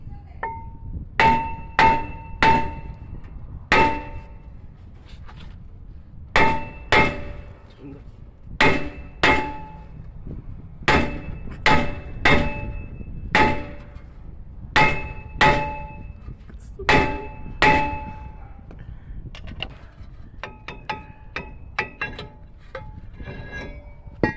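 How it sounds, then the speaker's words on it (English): A hammer strikes a steel brake rotor on a Ford F150 hub to knock it loose, giving loud ringing clangs in bursts of two or three blows with short pauses between them, then a quicker run of lighter taps at the end. "Now we have to remove the rotor. Just try to hit it in the solid area."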